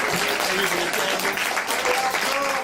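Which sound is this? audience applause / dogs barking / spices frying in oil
audience applause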